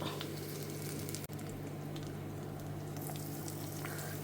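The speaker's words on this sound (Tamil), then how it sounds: "இப்போ கடுகு பொரிய ஆரம்பிச்செடுத்து" Mustard seeds, fenugreek and curry leaves splutter and crackle in hot oil, a steady close sizzle with scattered pops that runs throughout, with no one talking.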